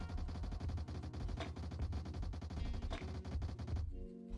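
A Honey Badger rifle in the Roblox shooter Bad Business fires a whole magazine in one fast, unbroken automatic burst, loud and close, then stops abruptly near the end.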